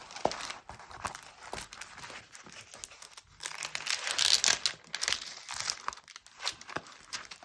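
A diamond painting canvas package being unwrapped, close crinkling and tearing of plastic wrap in uneven bursts, fairly quiet, with no talking.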